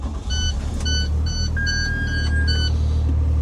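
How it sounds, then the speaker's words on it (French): A bus engine turns over and settles into a steady, heavy low rumble, while a series of short, evenly spaced electronic beeps and one longer tone sound over it up close. "Je vais démarrer l'autobus"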